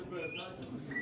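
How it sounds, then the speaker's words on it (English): Short synthetic birdlike chirps and warbling tones from a guitar effects pedal played live at a gig, brief and fairly quiet over a murmuring background. "he has a bird pedal."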